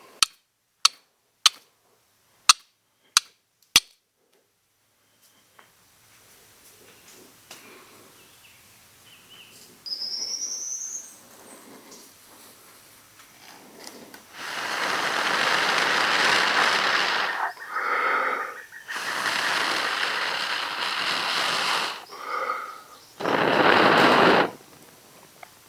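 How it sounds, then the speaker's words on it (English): A fire starter bursting into flame and burning, heard as a rising, breathy whoosh and roar of fire in loud swells after a few sharp striker clicks at the start, with no talking. "Add oxygen until it bursts into flame."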